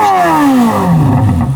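A Chevrolet C8 Corvette Z06 engine revs loud and close, the pitch climbing then falling through a single brief burst.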